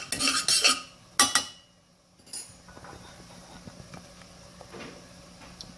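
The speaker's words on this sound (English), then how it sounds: "you whisk it so that it thickens up" A whisk works through a mixture thickened with flour in a bowl: quick, bright clinks of metal against the bowl come first, then softer, fainter stirring and scraping follow, close by.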